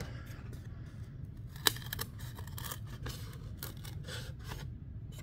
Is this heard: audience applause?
no